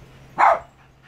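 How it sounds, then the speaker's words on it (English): A single sharp dog bark rings out nearby, brief and loud against an otherwise quiet room. "what are you barking at?"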